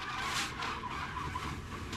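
A NASCAR race car spins out during practice and slides down through the grass, a steady roar of engine and tyre noise with skidding, fairly faint and distant, no talk.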